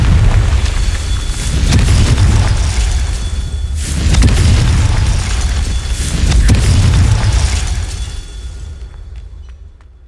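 Confringo blasting spells go off in Hogwarts Legacy as a series of loud, deep booms with rolling rumble, three large bursts spread over the clip before fading into quieter crackling near the end.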